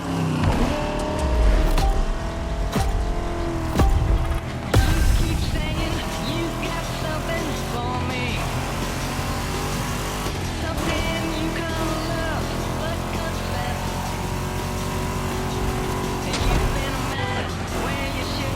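Vintage cars race in The Crew Motorfest on PS5, engines droning and revving steadily with shifting pitch, tire noise and passing whooshes, loud and continuous over a game soundtrack.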